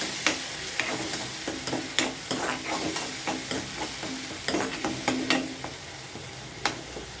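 Ground onion paste frying and being stirred in a pan: a steady sizzle under repeated sharp scrapes of a spoon against the metal, close and fairly loud, with no talking.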